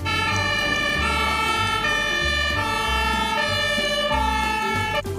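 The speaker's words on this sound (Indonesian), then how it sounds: "Yang ini mobil pemadam kebakaran." A loud fire truck siren wails continuously, backed by a low horn pulsing in regular bursts.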